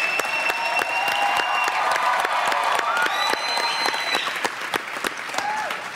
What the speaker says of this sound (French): on peut les applaudir certainement